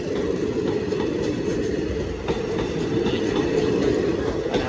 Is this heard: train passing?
yes